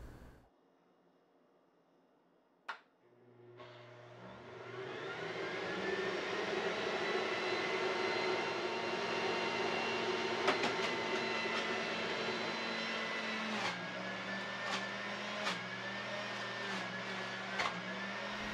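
A Breville Juice Fountain Cold juicer starts after a single sharp click and runs as a steady loud motor whine while apples are fed through the chute, with brief knocks and crunches over the hum and no voices.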